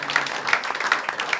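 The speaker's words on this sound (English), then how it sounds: "can we get some applause for the people that were brave enough?" Short burst of audience applause at a comedy show, many hands clapping fairly close and loud with a few sharper individual claps standing out.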